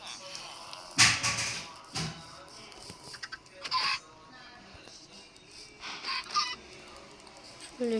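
Scattered clucks and squawks from chickens in Minecraft, with sharp bursts and quieter gaps between them, fairly faint overall against a soft background.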